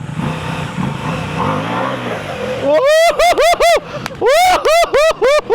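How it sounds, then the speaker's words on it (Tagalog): A big Ducati motorcycle engine revs hard during a tight turn in a riding challenge, with loud, repeated rising throttle blips in quick bursts, following a stretch of people talking over a lower engine drone. "Malaking motor pa yan."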